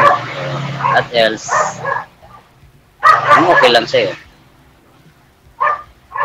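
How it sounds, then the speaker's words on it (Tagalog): A dog barks and yips in short bursts, mixed with people talking nearby; the voices dominate while the barking comes and goes. "Ingay ng aso."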